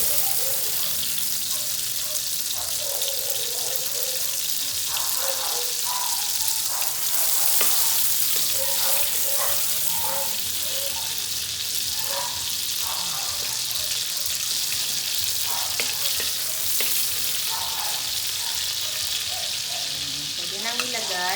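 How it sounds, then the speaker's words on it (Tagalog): Butter melts in hot cooking oil in a pan, giving a loud, dense, continuous sizzle with crackling pops, close up and steady across the whole stretch with no talk. "Lalagay tayo ng konting cooking oil para hindi masunog yung butter. Then, half of the butter. Tutunawin lang natin yung butter."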